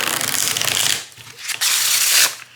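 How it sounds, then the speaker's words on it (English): A deck of cards printed on watercolor paper being shuffled up close, a loud papery riffling burst, a brief pause, then a second riffle swelling and fading. "sometimes I will just sit and shuffle this deck because it has the most satisfying shuffle"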